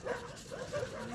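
A dog in the video game The Last of Us Part II gives a few short whimpering yips, fairly faint, amid game background sound.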